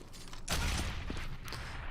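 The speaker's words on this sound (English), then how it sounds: "They're going for wall bangs with pistols." Pistol shots fire through a wall on Inferno in a Counter-Strike match, a loud crack then a short scatter of quieter follow-up shots, heard close against low background noise.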